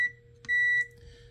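A multimeter gives short electronic beeps during continuity checks on the wiring of a Ryobi One+ lithium battery, a brief tone then a steadier one lasting about a third of a second, close and clear over faint hum.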